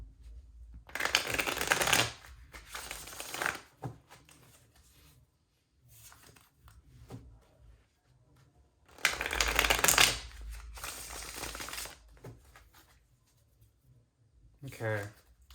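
A Royal Fez 1975 tarot deck being shuffled by hand, with two long bursts of riffling card noise, a shorter flurry, and quieter gaps where a voice speaks softly.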